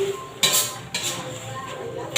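A metal lid is set onto a pot of chicken and cabbage stir-frying in oyster sauce, giving a few clanking, scraping hits of metal cookware over a low background hiss.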